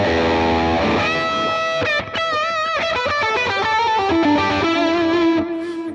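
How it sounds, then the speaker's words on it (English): An electric guitar lead solo patch on a Line 6 Helix, played dry with no effects engaged, rings out a distorted, sustained melodic line with bends and quick note runs, loud and alone. "The main solo patch sounds like this with no effects engaged"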